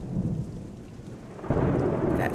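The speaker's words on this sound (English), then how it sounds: "Thunder, man, I'm telling you." Thunder rumbles through a stormy scene in the horror video game The Joy of Creation: Reborn, a low, steady roll with rain hiss that swells louder partway through, heard alone without voices.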